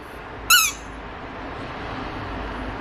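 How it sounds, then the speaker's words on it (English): A squeaky dog toy ball gives one sharp, bright squeak up close, then only quiet room noise follows. "it squeaks"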